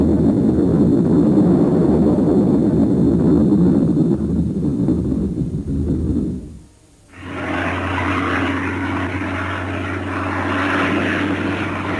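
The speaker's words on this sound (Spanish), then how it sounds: "El 163 es todavía hoy el único cazacohete que voló en combate." Messerschmitt Me 163 Komet rocket fighter, a loud continuous engine roar that briefly drops out, then returns as a steady droning tone with a strong low hum.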